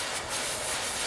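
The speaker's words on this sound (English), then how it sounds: "And that sound is me blowing on that one" Steady breathy hiss of a person blowing onto a freshly glued 1.8 mm fly-tying tube, a continuous close airy rush lasting about a second with no talk.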